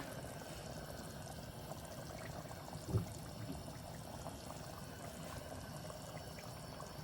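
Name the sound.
milk being poured into bolognese sauce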